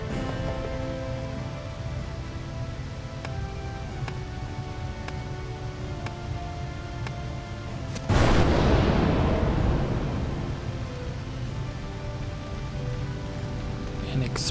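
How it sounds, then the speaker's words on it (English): A fire explosion in Final Fantasy X HD Remaster set in submerged ruins booms suddenly midway, a loud burst that decays over several seconds above a steady game ambience with faint repeating clicks. "An explosion of a fire?"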